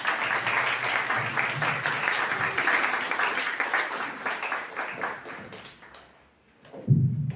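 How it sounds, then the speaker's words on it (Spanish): Audience at a university talk applauding to welcome a speaker, with sustained, moderately loud clapping that fades out, followed by a brief low thump near the end. "Brindémosle un aplauso, por favor."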